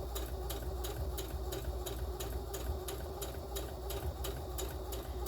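A sewing machine runs steadily, stitching through the outer fabric of a child's tote bag and reversing to backstitch, with a constant motor whir and a regular ticking rhythm of needle strokes throughout.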